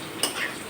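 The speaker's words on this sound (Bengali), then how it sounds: "এই যে মাছটা একটু ভাজা ভাজা হয়েছে" Fish frying in a pan for a Bengali ridge gourd (dhundul) curry, giving a soft, steady sizzle with a brief sharper scrape or clatter near the start.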